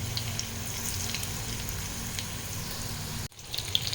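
Potatoes frying in oil in a pan for a vegetarian Bengali aloo dum, a steady close sizzle with scattered crackles that cuts off sharply near the end, followed by quieter kitchen noise.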